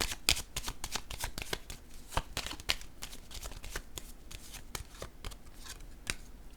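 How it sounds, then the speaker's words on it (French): Tarot cards handled on a table, mostly crisp shuffling riffles with soft slaps as a card is set down, close and steady throughout with no talking. "Je vais déposer une carte sur le coup de poignard."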